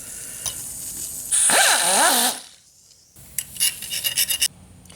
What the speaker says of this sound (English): I just need to open up the hole a little bit wider to receive this bolt